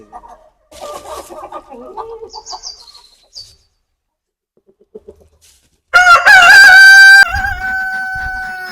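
Backyard poultry kept for eggs, chickens and ducks: soft clucking and scattered bird calls first, then a loud, close rooster crow that rings out for about two seconds before fading.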